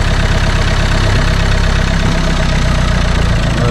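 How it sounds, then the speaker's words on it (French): A Renault Clio 2 with the 1.5 dCi diesel engine idles loudly up close, a steady rough clatter with slight wavering as the revs settle back to an even speed. "Le régime se restabilise."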